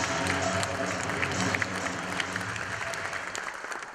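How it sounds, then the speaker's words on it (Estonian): Studio audience applauding a panel of judges at a school show, a dense steady patter of many hands clapping throughout, fairly close and even, tapering slightly toward the end. "Direktor Rait, aplaus!"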